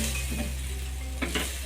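A spoon stirs bottle gourd halva simmering in milk in a pan, a faint low sizzle with a couple of soft scrapes and clinks near the end.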